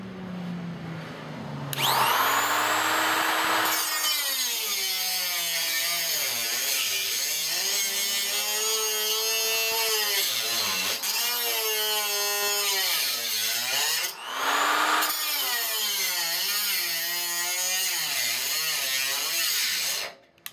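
A power tool cuts into the rear quarter panel of a 1970 Mustang Mach 1, whining loudly and steadily with its pitch sliding up and down as it bites, then briefly dropping out before starting again.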